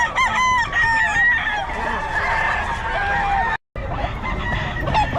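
Roosters crowing and chickens clucking at a poultry market in Bocaue, Philippines, with several birds calling over a busy, dense background and a brief dropout near the end.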